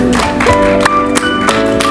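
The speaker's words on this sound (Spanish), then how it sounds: "Aplaudo al Señor, por favor." A church congregation claps in a steady rhythm over music, with sharp hand claps repeating about three times a second.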